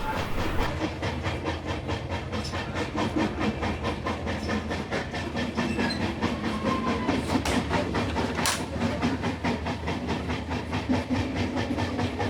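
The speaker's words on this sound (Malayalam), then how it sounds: "ട്രെയിൻ ഇപ്പോൾ തൃശ്ശൂർ റെയിൽവേ സ്റ്റേഷനിൽ എത്തിച്ചേർന്നിരിക്കുകയാണ്." A train arrives at Thrissur railway station, rolling steadily through with wheels clattering in a continuous rhythm with hissing and rumbling, loud and close, no voices present.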